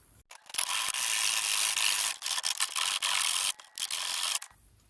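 Scraping and grinding on the leftover remnants of an old mount on an inside dash piece of a Ford F-Series or Bronco, a steady coarse rasp in several bursts with brief pauses, close and alone.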